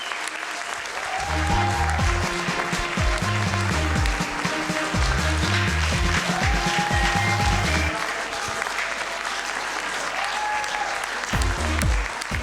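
An audience applauds as a speaker is welcomed to the stage at a public-speaking event, with strong clapping under loud rhythmic background music that fades, then returns near the end.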